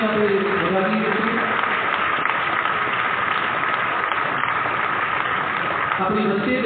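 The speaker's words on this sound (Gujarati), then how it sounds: "પુનઃ જોરદાર તાળીઓથી આપણે પુરાની ટીમને આપણે વધાવીએ છીએ." Sustained applause from a devotional assembly at a BAPS Chaturmas discourse, a dense steady clatter of many hands clapping throughout, fairly loud with a murmur of voices mixed in.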